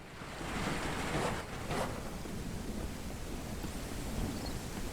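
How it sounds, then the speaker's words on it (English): Rain falling in the Mist Survival video game: a steady, fairly quiet wash of broadband noise, like wind-driven rain, with a couple of brief surges early on and no talking. "And now it's raining."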